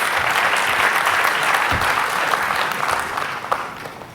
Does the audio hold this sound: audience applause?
yes